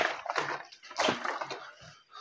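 Water thrown and splashing near a person during a night-time investigation of a supposedly haunted location, coming in two broad sloshing bursts close by, with faint talk around it.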